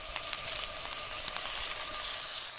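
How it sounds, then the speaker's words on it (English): A frying pan hisses and sizzles steadily up close, a continuous bright crackle with small pops, heard alone. "the hissing of the frying pan"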